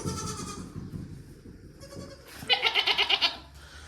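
Goats bleat in a concrete stall: a low, rustling murmur of animals at first, then a loud burst of rapid, quavering bleats near the end, close by and with no talking.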